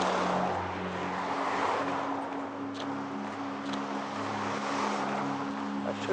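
Oncoming cars passing on Gorge Road heard from a pedestrian walking along the waterfront, a steady broad traffic roar with a few distinct passes swelling and fading, engines humming low underneath, no talk.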